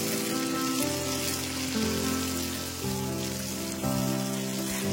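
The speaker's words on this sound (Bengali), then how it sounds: "তারপর দিয়ে দিচ্ছি এর মধ্যে পেঁয়াজ কুচি। পেঁয়াজটাকে একটু সময় ধরে ভালো করে ভেজে নেব।" Onions fry in mustard oil in a wok, giving a dense, even crackling hiss that stays close and steady throughout, with faint tonal hum underneath.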